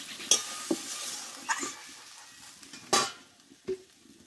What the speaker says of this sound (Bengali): দেখো এবার জলটা দিয়ে দেবো আমি, অল্প একটু জল দেবো।